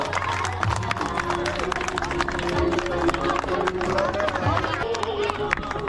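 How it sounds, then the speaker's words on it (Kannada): A school hall audience of former students honors their teachers at a felicitation event, with a dense, steady wash of crowd noise and scattered clapping that never rises above general hubbub. "ಜೋರಾದ ಚಪ್ಪಾಳೆ ಹೊಡೆಯುವ ಮುಖಾಂತರ"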